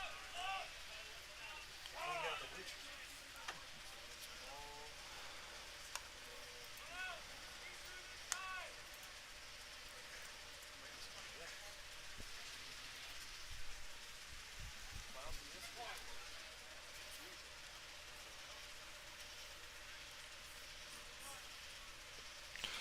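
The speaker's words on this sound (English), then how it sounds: "Rain continuing to fall." Rain falling on a baseball field during a game, a soft steady patter spread evenly under intermittent commentary voices and distant crowd chatter.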